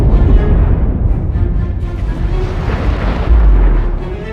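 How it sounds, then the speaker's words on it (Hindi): Dramatized atomic bomb blast over Hiroshima, a heavy, deep, rumbling roar that sustains loudly and rolls on without a sharp attack, low-end heavy and continuous throughout, with no talk. "फिर एक धमाका हुआ"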